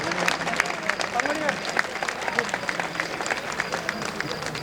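Steady applause from a large crowd, a dense wash of clapping sustained throughout with a faint murmur of voices beneath.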